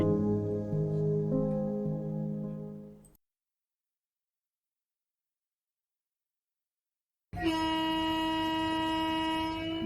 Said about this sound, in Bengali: বর্ধমান থেকে ট্রেন ছাড়লো,